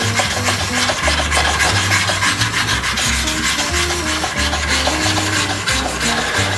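A steel chisel is rubbed back and forth on a sharpening stone, producing a steady, close, continuous gritty scraping that runs without pause.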